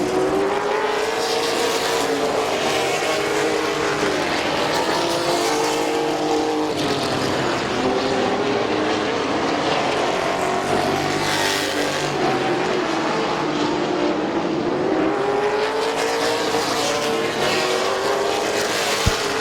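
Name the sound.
race trucks racing at Midvale Speedway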